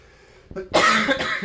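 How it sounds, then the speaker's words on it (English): A single harsh cough, close and loud, preceded by a short throat-clearing catch. "everyone's gonna be upset at my coughing"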